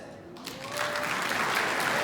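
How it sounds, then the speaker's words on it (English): Audience of school principals breaking into hand clapping at a speaking event in East London, applause swelling after a brief moment and continuing steadily. "clap your hands."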